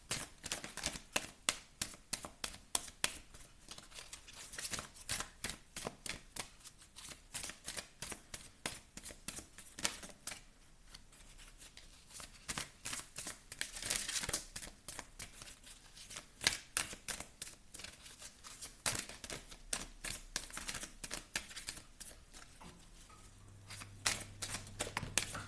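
Tarot cards are shuffled and drawn, making a steady, close run of rapid soft flicks and riffles that continues without pause.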